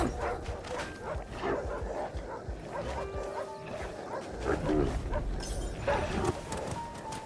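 Dog barks and yips in The Red Lantern video game, a few short barks over game ambience and music, mid-distance and moderately loud, with brief speech nearby.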